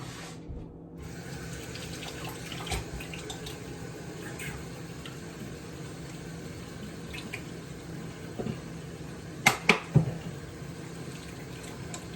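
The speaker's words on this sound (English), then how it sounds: "Now, I was just washing to get the clay off my hands" Running tap water rinsing oven-bake clay off hands at a sink, a steady continuous flow with a few brief louder splashes near the end, no talking.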